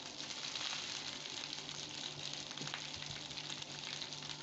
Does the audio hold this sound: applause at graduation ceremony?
no